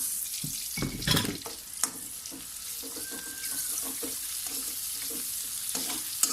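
Garlic and onion fry in a pan for arroz caldo, a soft continuous sizzle with a few scraping stirs and light utensil knocks near the start.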